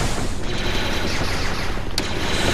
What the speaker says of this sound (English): Trying to talk over blaster fire